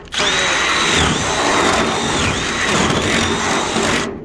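A power drill bores through a car hood for hood pins, its motor whining steadily loud and close with slight pitch dips as the bit bites and is worked around in the hole.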